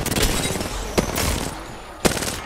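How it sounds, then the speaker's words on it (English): Incoming gunfire in a multiplayer shooter video game: three sharp, loud bursts of shots strike at uneven intervals over a constant rumbling battle bed. "I'm taking shots."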